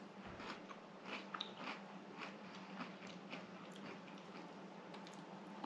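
Biting and chewing through the hard, crusty topping of freeze-dried sweet potato casserole, a series of close, faint crunches repeating every second or so against a quiet background.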